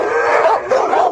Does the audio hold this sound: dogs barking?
yes